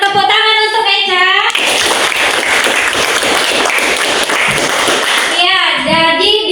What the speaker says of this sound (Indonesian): Tepuk tangan untuk Eca